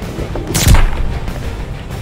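A single loud, booming shot from the P06 laser sniper in Black Ops 3, one sharp blast with a short ringing tail, alone without speech.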